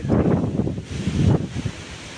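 Strong wind blows outdoors with a low, rumbling buffet across the microphone. It gusts steadily for about a second and a half, then eases, with no voices.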